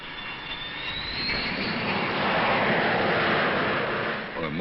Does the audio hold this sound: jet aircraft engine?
yes